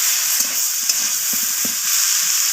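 Vetki fish head and pui greens sautéing with a pinch of sugar, giving a steady close sizzle with a few soft stirring scrapes scattered throughout.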